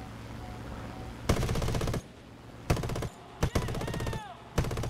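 Aircraft machine guns fire in the War Thunder flight game: several loud sustained bursts of rapid gunfire separated by short pauses, with engine drone between bursts and no talk over the shots.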